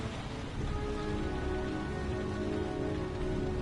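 Steady rain pours down in a dense, even hiss, close and fairly loud, with no breaks and no voices over it.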